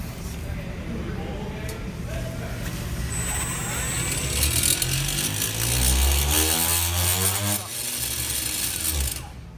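A 120 lb drum-spinner battlebot spins up with a rising whine and rumble building into a loud, rough mechanical roar, with brief voices in the background.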